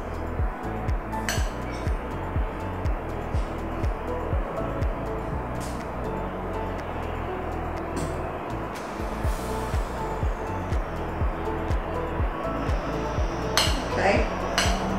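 An egg mixture with spring onions, for egg foo yong, is stirred in a bowl: quick, steady clinks and scrapes continue throughout at close range, with no talking.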